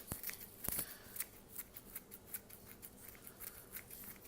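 Scissors snip fresh garden parsley over a Swedish root vegetable mash dish, giving a quick series of soft, crisp clicks that are close but faint, with no talking.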